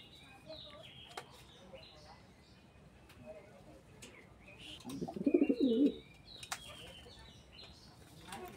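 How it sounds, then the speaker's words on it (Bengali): A pair of large red checker pigeons coo in a soft, low burst lasting about a second near the middle, with quiet chirps and faint wing flutters around it under a low background. "বিগ সাইজের এক জোড়া কবুতর দেখতে পাচ্ছেন।"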